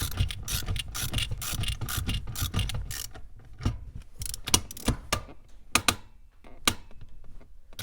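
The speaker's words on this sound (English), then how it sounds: "So tighten the handbrake till it's about 3 clicks." Handbrake ratchet on a Lancia Delta Evo1 clicking as the lever is pulled up, close and crisp: a fast run of dense clicks, then slower, more spaced single clicks.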